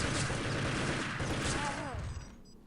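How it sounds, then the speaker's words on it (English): Grenade launcher in a competitive online shooter match, lobbing a few grenades in quick succession with dull thumps and blasts, partly under fast commentary talk, then tailing off to quiet. "Throwing random nades with the grenade launcher there."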